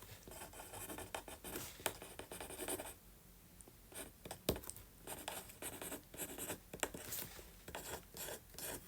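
Handwritten notes jotted down with a pen on paper, a close, busy scratching and rasping with short bursts and brief pauses, steady and unaccompanied by talk.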